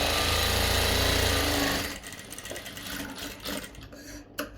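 An Usha S2 sewing machine runs at full speed with a fast mechanical clatter for about two seconds, then slows into sparse, irregular ticks and clicks, with no talking.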